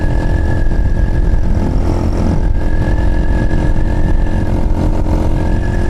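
A Chinese motorcycle engine running steadily on the road, loud and close throughout, with a continuous mid-pitched drone and wind noise and no clear rise in revs.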